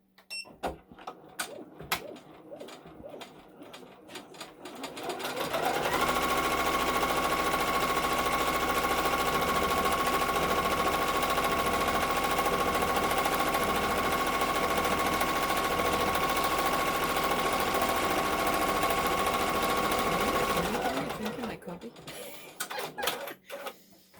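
An embroidery sewing machine runs a tack-down stitch on a quilt block in one steady, dense, rapid whir of about fifteen seconds, with quieter handling noise before and after.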